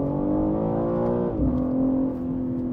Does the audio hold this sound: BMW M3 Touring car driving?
yes